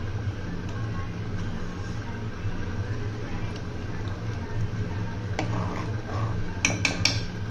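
Thai soup ingredients boiling in a pot while being stirred: a steady low simmering rumble and hiss throughout, then a few sharp spoon clinks against the pot near the end, with no one talking.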